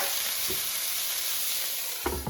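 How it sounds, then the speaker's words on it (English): Italian sausages pan-frying in a hot pan give off a steady, close sizzle. Two brief stirring or turning clatters sound near the start and the end. "So the Italian sausage has been cooking for 15 minutes, starting the time when the pan was heated."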